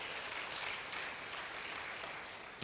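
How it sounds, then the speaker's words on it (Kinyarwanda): Applause from a congregation during a Sunday church service, a soft, steady wash of many hands clapping heard from a distance, fairly quiet and even throughout. "dukomera Imana amashyi kubwo yamushoboje"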